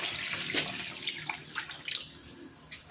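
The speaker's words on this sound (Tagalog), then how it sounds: "Maglalagay na ako dito ng tubig." Water is poured into a cooking pot holding soaked mung beans and pork ribs for sinigang, making a close splashing, gurgling stream that is fairly quiet and uneven, with a louder splash at the end.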